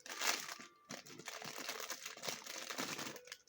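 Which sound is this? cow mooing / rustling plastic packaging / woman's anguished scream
rustling plastic packaging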